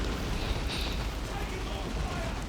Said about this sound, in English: those grenade launchers doing a good amount of damage